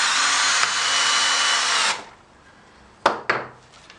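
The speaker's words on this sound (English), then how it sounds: "it does drive drywall screws" A Hitachi DS18DGL cordless drill, not fully charged, whirs loudly for about two seconds as it drives a drywall screw, then stops, followed by two sharp clicks.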